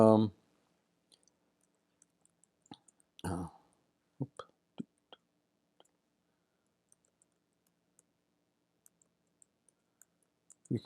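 A computer mouse is clicked several times while editing blog posts, giving sparse, quiet, sharp clicks spread out in a near-silent room, with brief bits of voice at the start and around the middle.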